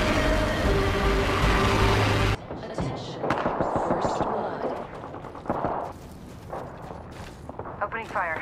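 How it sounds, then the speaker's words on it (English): Apex Legends gunfire cracks out in loud, close bursts and rapid shots, then breaks into scattered single shots and impacts while a player talks over the action. "Opening fire."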